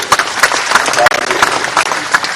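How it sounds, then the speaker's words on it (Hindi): Audience applause at a public ceremony in Indore marking national highway project inaugurations, a dense, steady patter of many hands clapping throughout, with a few sharper claps standing out close by. "दोनों हाथ तालियां बजा के हम लोग"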